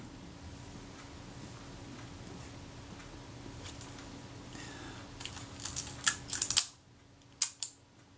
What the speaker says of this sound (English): I want to see if that shutter release is going to move smoothly.